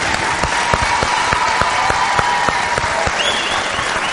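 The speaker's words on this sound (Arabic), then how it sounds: "تصفيقة تصفيقة كبيرة" Big studio audience applause on a TV entertainment show, loud sustained clapping with sharp rhythmic claps cutting through at a steady beat, plus a short high musical tone toward the end.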